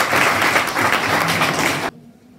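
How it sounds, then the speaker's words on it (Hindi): Classroom applause from a group of students, a dense burst of clapping close by that stops abruptly after about two seconds. "इनके लिए भी आप ताली बजा सकते।"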